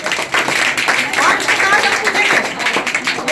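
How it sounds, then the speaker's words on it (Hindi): Audience applause at a general knowledge competition prize event, a burst of many hands clapping in a busy irregular patter, fairly loud, with voices mixed in. "जोरदार ताली आप लोग बजा दीजिए।"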